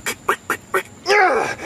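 A cartoonish duck voice, likely a person imitating a duck, gives one loud, raspy quack after four short vocal bursts, all close and clear.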